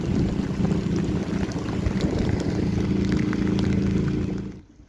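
A sailboat's inboard engine idles in a steady low rumble with a faint watery wash, running continuously at a moderate level before cutting off abruptly near the end.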